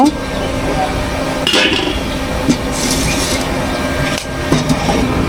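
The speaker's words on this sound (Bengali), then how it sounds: "এবার আমি কড়াইটা চুলার উপরে দিয়ে দিব।" A metal wok (kadai) is set onto a lit stove in a home kitchen while fish curry is being prepared. A few sharp clinks and clanks ring out over a constant background hiss.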